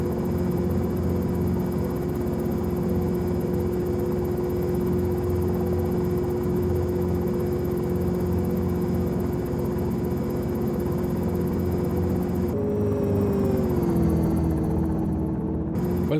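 Dynali EasyFlyer H3 helicopter flying in X-Plane 11, a steady loud rotor and engine drone with a constant tonal whine that shifts pitch slightly near the end, with no talk over it.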